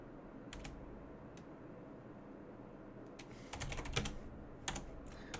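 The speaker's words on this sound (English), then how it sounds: "we will type" Typing on a computer keyboard while writing a C# number-guessing program, with scattered single key clicks that turn into a quicker cluster of taps near the end, close and quiet.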